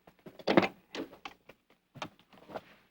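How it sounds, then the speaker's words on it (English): Rear door of a 1983 Buick LeSabre sedan opening, heard as a series of close, fairly quiet mechanical clicks and a latch thunk, with a few short knocks following. "Let's open the back door for a minute."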